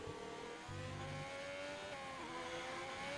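A race car in a racing video game brakes hard, engine note dropping through downshifts as tires scrub, then revving back up, close and loud with no talk.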